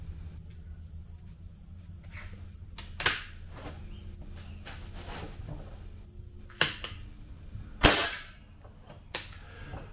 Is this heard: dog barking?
no